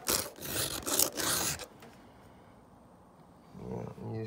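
A hand file rasps across a chainsaw chain tooth in a few quick, close strokes, followed by quiet, then faint movement near the end.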